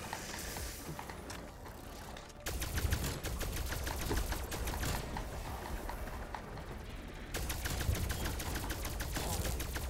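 Rapid automatic gunfire from a fight against zombies in Call of Duty Zombies on Firebase Z, with dense repeated bursts over a busy game background, pausing briefly then resuming.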